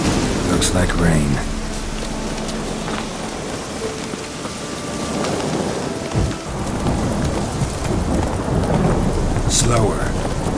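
Steady heavy rain with rumbling thunder in The Witcher 3 video game, a dense wash of downpour throughout with deep thunder swells and a sharp crack near the end, with a voice speaking briefly over it.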